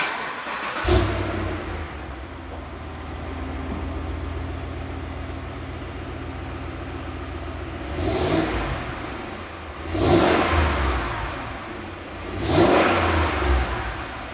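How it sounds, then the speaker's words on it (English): A Cadillac Escalade engine idles with a steady low rumble through its exhaust, then revs up three times in short bursts, each roaring briefly before settling back. "You guys know I had to give you a little exhaust clip"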